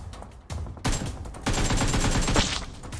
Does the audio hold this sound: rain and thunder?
no